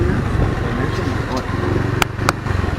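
A motorbike engine idles and putters close by with a steady low rumble near a temple in Thailand, while people talk over it and a couple of sharp clicks sound near the end.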